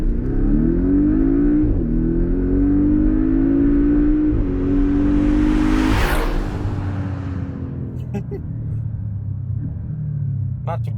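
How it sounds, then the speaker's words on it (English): A Porsche 718 Cayman S in Sport Plus mode revs its engine in a steady, loud, deep drone that climbs briefly to a peak and then drops back to a lower rumble, heard up close. "Let's put the car in Sport Plus mode. That means engine, gearbox and transmission are in sport mode."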